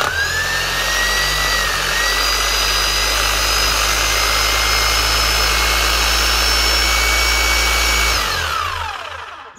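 Bosch GBH 5-40 DE rotary hammer running after a full service, a loud steady motor whine with a low hum underneath, held continuously for several seconds before winding down at the end.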